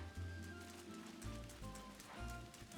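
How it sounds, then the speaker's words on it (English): Soft rain patters steadily in Hello Kitty Island Adventure, a quiet, even hiss of drops with faint low rumbles beneath. "I wonder if this rain is messing stuff up."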